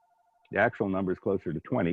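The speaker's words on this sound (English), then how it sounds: "Sorry about the phone ringing." A telephone rings in an office setting: a faint, evenly pulsed electronic ring tone is heard alone for about half a second, then someone starts talking over it.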